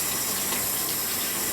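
Mostly cold tap water gushes steadily and loudly into a brewing vessel while a Christmas ale is being made, a continuous close rushing splash throughout.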